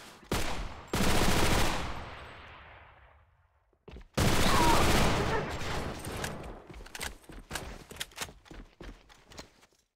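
A SCAR-L Black Lemon rifle firing in the online shooter AVA: loud, close bursts of rapid gunfire broken by pauses, then scattered single shots and clattering game noises that fade toward the end.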